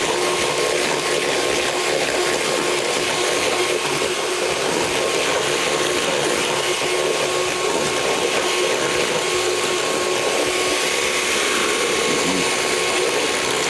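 An electric mixer beating an egg into muffin batter, a loud, unbroken mechanical whirr with a faint rattle that holds steady throughout, close by.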